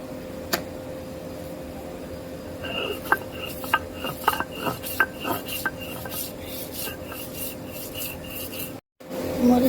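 Dried chillies are ground on a grinding stone, a run of rough scraping and rubbing strokes with occasional sharp taps, steady and close over a low background hum, without speech.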